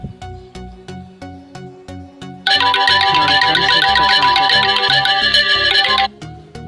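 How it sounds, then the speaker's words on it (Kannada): A fake-call app's phone ringtone plays loudly and continuously for several seconds after a quieter, rhythmic melody, then cuts off abruptly. "ಒಂದು ಫೇಕ್ ಫೋನ್ ಬರುತ್ತೆ"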